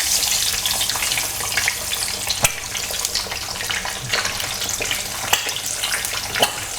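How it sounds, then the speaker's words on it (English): Eggs frying in oil in a pan while hot oil is flicked over them, a continuous close crackling sizzle broken by several sharp spits and pops. "So what I tend to do is flick the oil over the top, and it saves you messing around having to turn the eggs over."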